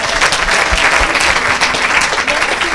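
Church congregation applauding together, a dense steady wash of clapping hands with a loud, even level throughout and murmured voices mixed in.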